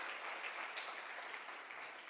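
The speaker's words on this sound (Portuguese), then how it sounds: "E aplauda Jesus mais uma vez." A church congregation at a celebration service applauds together, a sustained wash of many hands clapping at a fairly distant, even level for the whole stretch, with no voices standing out.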